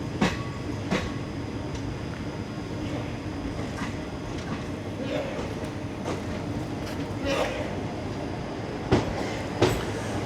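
Amrita Express slowing into Edappally station, a steady low rumble of the rail carriages with scattered clanks and faint squeals from the wheels, and a few sharper knocks near the end.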